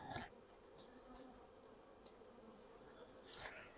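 A faint, steady hum of honey bees buzzing nearby as they are shaken off a hive frame, with occasional scraping and knocking sounds at the start and end.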